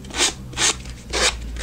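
Sandpaper on a sanding block rubbed over a clipboard surface in three separate one-way strokes, a close, dry rasping with short pauses between passes.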